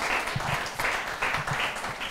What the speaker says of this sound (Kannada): ನಾವು ಕೇಳಿದಂಥ ಎಲ್ಲ ಸಾಕ್ಷಿಗಳಿಗೆ ನಾವು ಜೋರಾದ ಚಪ್ಪಾಳೆ ತಟ್ಟೋಣ